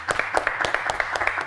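A studio audience at a quiz show claps for a contestant, with steady, fairly dense applause close by and no voices over it.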